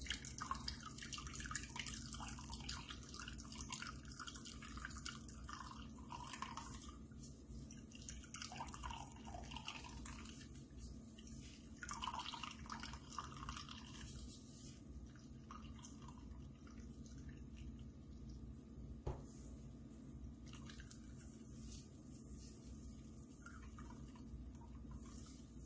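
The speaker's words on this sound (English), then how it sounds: "I'm gonna squeeze this and get all the juice out of it." Juice dripping steadily from a cucumber squeezed in gloved hands, a quiet, continuous patter of drops and trickling liquid heard close up over a faint background hiss.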